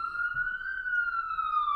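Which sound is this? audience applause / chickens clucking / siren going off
siren going off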